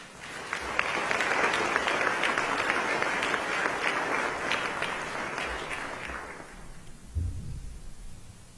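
Sustained applause from a large audience at a formal evening event welcoming speaker Paul Jacobs, dense clapping swelling for several seconds then fading out, with a brief thump near the end.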